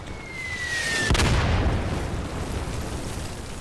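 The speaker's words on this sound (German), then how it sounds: "Ich pfeffer da jetzt gleich mal eine Granate rein." Grenade explosion in the video game Day of Infamy: a single loud boom hits sharply, then a long rumbling decay, with no talking.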